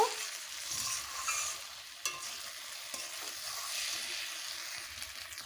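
Taro stolons (kochur loti) stirred and fried in a pan, with a steady bright sizzle and scraping clicks from the spoon against the pan, close and continuous, with no talking.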